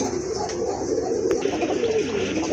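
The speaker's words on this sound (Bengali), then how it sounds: "এটা হচ্ছে আপনার রেড কালার রাজগোল্লা কবুতর, মাশাআল্লাহ খুবই অ্যাক্টিভ" Red Rajgolla pigeons coo in a steady, low murmuring run close by, with faint higher chirps above, in a busy loft with no talk.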